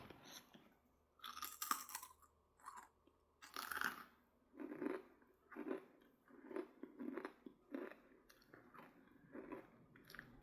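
Crunchy pork rinds are chewed with dentures, close loud crackling bites followed by a steady run of rhythmic crunching chews, with no talking.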